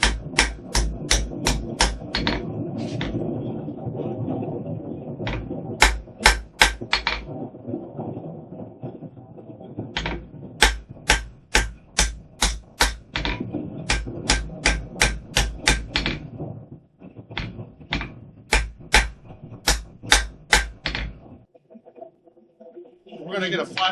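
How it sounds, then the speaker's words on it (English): A blacksmith straightens a punch with a lighter hammer, sharp ringing metal strikes falling in quick rhythmic bursts separated by brief pauses, loud and close, ending with a few scattered taps. "I'm going to continue with this lighter hammer just to straighten out."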